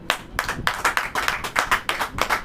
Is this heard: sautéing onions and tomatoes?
no